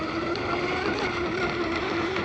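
Radio-controlled J&R Marine H26 hydroplane with a new stainless steel prop, running over choppy water: a steady, high-pitched motor whine with slight pitch wobble and spray hiss, heard continuously at moderate level.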